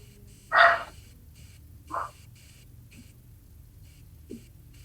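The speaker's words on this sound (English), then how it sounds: "If you can hear that little dog, it turns out he is the smallest one, and so he is the loudest one." A small dog gives a few separate barks, one sharp and loud, then quieter yips spaced about a second apart, ringing out over a steady low hum.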